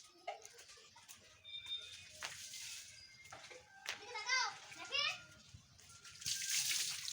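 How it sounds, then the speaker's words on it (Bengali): Two small children bathing together, with running and splashing water under their high chatter and playful voices, all fairly close with birds faintly in the background. "এই দেখো দুজন মিলে স্নান করছে"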